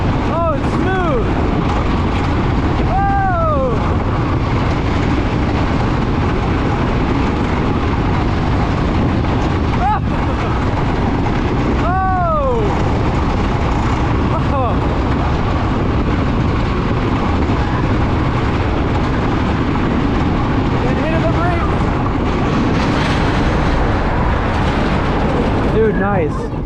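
The Thunderbird roller coaster at PowerPark in Alahärmä, Finland roars continuously along its track, with rushing wind and rumble throughout and riders shouting and cheering over it.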